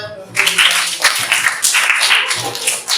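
An audience bursts into applause, a dense, loud patter of many hands clapping that holds steady for a few seconds after a brief quiet start.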